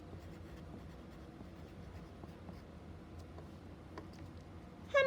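A pen writing a word by hand on a classroom board or paper, faint scratchy strokes scattered through a quiet room, ending in a short louder burst.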